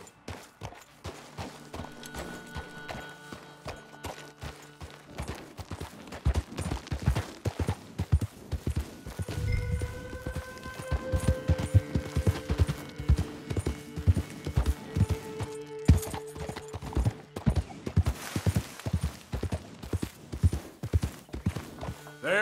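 A horse gallops in Red Dead Redemption 2, its hooves beating a rapid, steady clip-clop rhythm that builds louder and denser over time, with a faint whinny and some background tones.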